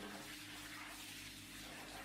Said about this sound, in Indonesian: mendengar suara keran air di kamar mandi menyala dan suara guyuran air